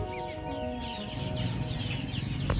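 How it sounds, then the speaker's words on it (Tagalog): Game farm chicks peep and cluck as they are let out into a ranging area, faint scattered chirps over a low background hum, no speech. "papakawalan na natin yung mga sisiw natin"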